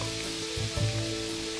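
Garlic hitting a hot pan of browning chicken and sizzling loudly, a dense continuous hiss that swells briefly as it lands, heard close with no talk.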